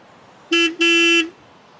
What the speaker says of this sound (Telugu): ఇక్కడ హార్న్ ఒకసారి విందురు కానీ.